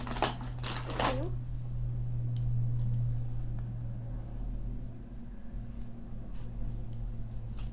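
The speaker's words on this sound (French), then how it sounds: "Au crayon, là, c'est juste pour faire un rond." A pencil scratches a circle onto an art journal page, a close, soft scraping at the start. A low steady hum runs underneath, and faint clicks follow.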